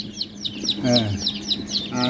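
Young black-boned chicks clucking and cheeping in quick repeated chirps while being fed mixed feed, close and busy, with a voice speaking underneath.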